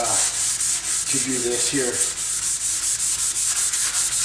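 Hand sanding with a block on a backhoe part, a steady back-and-forth rasp in a regular rhythm of repeated strokes, close up, with someone briefly speaking early on.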